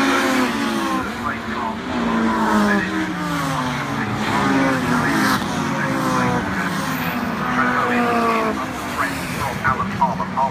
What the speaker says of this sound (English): Mark Kemp powers his way past Robert Birkinshaw to lead at the end of the first lap of the race